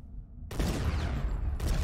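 A sudden loud burst of explosions in the video game Killing Room, with rumbling crackle and a second blast, close and dense, no talking.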